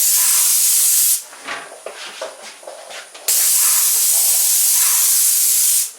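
Loud steady hiss of a paint spray gun spraying water-based satin enamel gloss trim, running for a second, pausing briefly with faint clatter, then spraying again continuously to the end.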